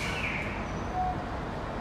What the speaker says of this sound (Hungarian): ilyen madár meg állathangokat mond be a utascsarnok feletti hangos bemondó időnként